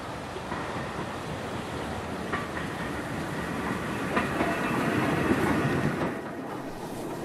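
Train running on the Sidmouth branch railway in Devon, a steady rumbling roll with faint rhythmic clatter of wheels over rail joints, swelling slightly louder toward the end with no talk.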